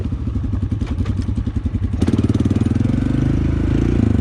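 Honda motorcycle engine idling close by with a fast, even throb that picks up a sharper, quicker pulse halfway through, loud and steady with no talk.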